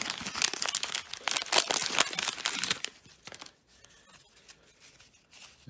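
1980s and 90s baseball card wax packs are ripped open by hand: about three seconds of loud, close crinkling and tearing paper, then quieter intermittent rustling.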